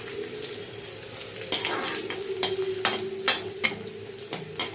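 Garlic fries in a pan, giving a steady soft sizzle under a faint hum, broken by several sharp scraping stirs and clinks in the second half, with no voices.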